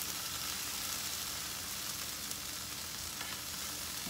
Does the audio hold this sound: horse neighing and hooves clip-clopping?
no